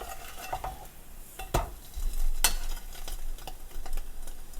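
French toast fries in a pan just after being flipped. A soft, steady sizzle runs underneath as a utensil scrapes and clinks against the pan a few times.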